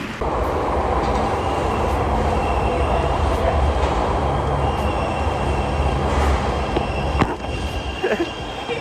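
A metro train on an MRT line pulls into a station, a steady loud broadband rumble of wheels and motors holding throughout with a brief clank near the end.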